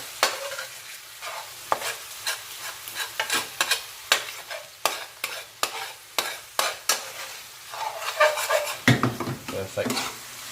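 A spoon scrapes caramelised chicken madras curry sauce back into a hot frying pan, giving loud, repeated rhythmic scrapes over a steady sizzle close up, with no talking.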